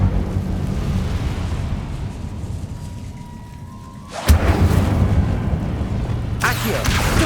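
An Incendio fire spell cast in Hogwarts Legacy: a low rumbling bed suddenly breaks into a loud whooshing burst near the middle, followed by another bright flare toward the end, with no talk.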